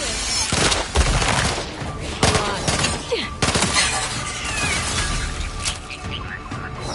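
Rapid bursts of sci-fi gunfire fill a firefight in The Outer Worlds 2, loud and dense with sharp cracks and repeated volleys, while a game voice speaks over the shooting.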